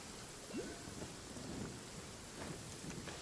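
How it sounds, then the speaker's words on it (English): Steady rain hisses in the Genshin Impact game world, with soft low rumbles of thunder rolling underneath, fairly faint and continuous. "It's just endless rain, dude. It doesn't stop raining here."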